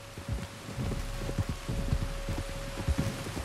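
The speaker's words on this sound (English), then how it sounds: "You were right about the damn rain." Steady rain in the video game Red Dead Redemption 2 patters over a low rumbling background, with scattered heavier drops and a faint constant hum, no one speaking.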